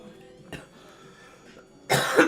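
After a joint is smoked, a short cough comes early, then a harsher burst of coughing near the end, close and fairly loud against a quiet background.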